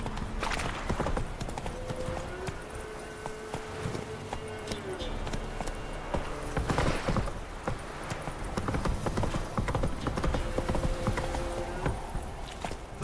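Hooves clip-clop rhythmically as the horse Roach trots in The Witcher 3, with game music and voices talking over the steady gait, plus a brief whinny.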